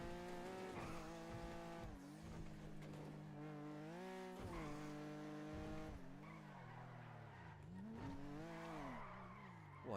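A car in a racing video game skids through turns, its engine droning with rising and falling pitch under long tire squeals, loud and close, with no talking.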